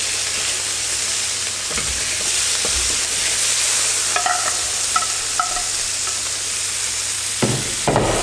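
Pork loin frying in a hot pan for rice with pork and cured meats, a steady broad sizzle throughout with a few brief clinks and stirring knocks near the end, close and loud with no talk.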